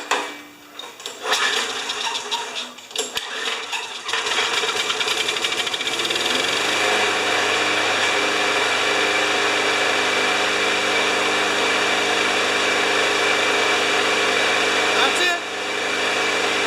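A primed Briggs Quantum small engine, freshly repaired, is pulled over a few times and then fires up. It settles into a loud, steady run that dips briefly near the end, with a voice speaking over the early attempts.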